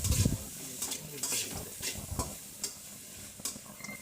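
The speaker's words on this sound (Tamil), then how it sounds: "இப்போ அதையும் சேர்த்து நல்லா வதக்கிக்கலாம்." Garlic and cumin sautéing in a pan for cabbage chutney, a steady sizzle broken by repeated spatula scrapes and clinks against the pan, close and clear.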